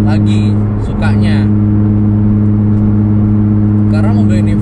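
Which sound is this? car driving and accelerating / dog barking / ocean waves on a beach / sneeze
car driving and accelerating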